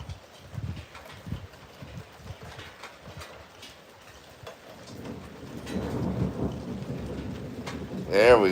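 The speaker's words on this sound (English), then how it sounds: "There's that thunder. The storm is here" Rolling thunder from an arriving storm heard from a porch, a deep rumble building from midway and swelling loudest near the end, over steady rain and earlier scattered knocks.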